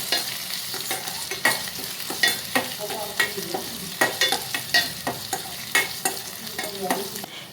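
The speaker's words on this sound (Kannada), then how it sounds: "ಒಣಮೆಣಸಿನ್ಕಾಯಿ, ಕರಿಬೇವು ಇದಿಷ್ಟನ್ನು ಹಾಕ್ಕೊಂಡು ಗೋಲ್ಡನಿಶ್ ಆಗೋವರೆಗೂ ಫ್ರೈ ಮಾಡ್ಕೊಳ್ಬೇಕು" Dry red chillies and curry leaves fry in a pan for tomato rasam, a constant crackling sizzle punctuated by frequent scraping stirs of a spoon on the pan, close-up, with no one speaking.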